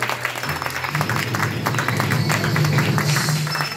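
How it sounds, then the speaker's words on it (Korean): Guests clapping at a Korean first birthday party after the candles are lit, a short burst of close, lively applause from a small indoor gathering lasting a few seconds. "박수 한번 크게 부탁드릴게요"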